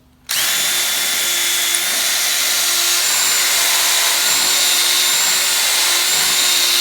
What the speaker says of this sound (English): I put the bit in and I'm going to ream it like this